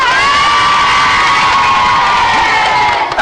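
Excited studio crowd on a French children's TV show cheers and whoops loudly and continuously, a dense roar of young voices filling the whole moment.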